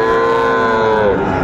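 Cattle, including young bulls and heifer calves, moo at the Ambari livestock market in Dinajpur: one long, loud, resonant low moo, close by, with a faint hum of the market behind it.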